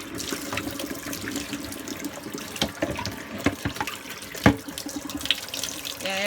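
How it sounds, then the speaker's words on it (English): Hot water runs steadily from a kitchen tap into a sink while a bowl is washed with soap, a continuous splashing stream broken by occasional clinks and knocks of dishes. "And that water's a little bit too hot."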